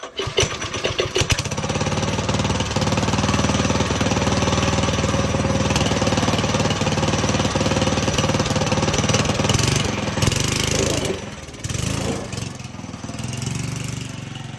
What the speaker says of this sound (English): Now remember, this is a 900 series Briggs Stratton's engine